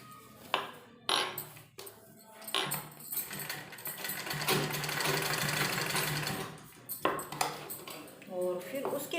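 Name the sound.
sewing machine stitching trouser seam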